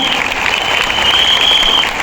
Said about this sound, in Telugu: క్లాప్స్ చేయండి ఒక్కసారి